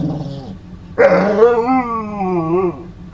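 A puppy gives a short low grumble, then a louder drawn-out whining howl-like vocalisation that rises and falls, close by with no talk.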